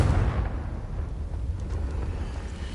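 A Confringo fire-blast spell explodes in Hogwarts Legacy on PS4, giving a loud, sustained roaring rumble with a crackling blast texture that holds steady for a few seconds, with no talk over it.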